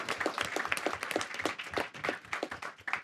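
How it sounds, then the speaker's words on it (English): Steady applause from a conference audience at a closing plenary session, dense clapping from many hands sustained throughout at moderate loudness. "please give it another, hand of applause for just all of the speakers"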